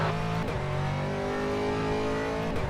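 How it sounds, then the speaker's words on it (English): Race cars in a sim racing event at Virginia International Raceway, a loud, steady engine drone with harmonic whine throughout, the pitch shifting slightly as other cars close in, with no talk. "There's a group of faster cars bearing down on you."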